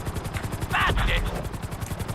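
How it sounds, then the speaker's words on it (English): Rapid rhythmic chop of a helicopter's rotor blades in GTA V, a steady fast thudding pulse running throughout, briefly overlaid by a short burst of brighter noise in the middle. "we'll see how well you handle the chopper"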